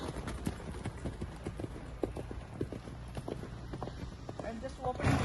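Hooves clip-clop in a steady, fairly close rhythm as a horse moves during a riding lesson, under a rider's continuous talking in the foreground.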